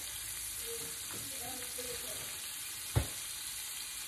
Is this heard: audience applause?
no